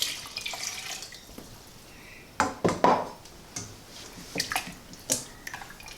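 Canned tomatoes and stock stirred in a pot, with quiet liquid sloshing and a few sharp scrapes and clinks of the spoon against the pot, mostly in the second half.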